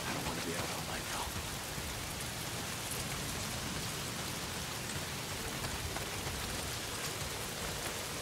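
Heavy rain pours down steadily in the video game Days Gone, a dense, unbroken downpour that stays loud for the whole stretch with no pauses.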